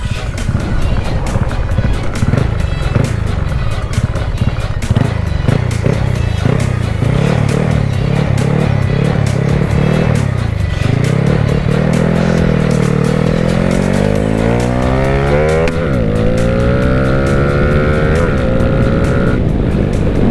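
A tuned, racing-style Honda Wave 110 motorcycle with an API box revs loudly and close, its engine note rising and falling in repeated sweeps with a rough, rapid firing pulse throughout.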